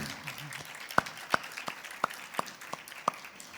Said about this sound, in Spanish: Sí, le pueden aplaudir.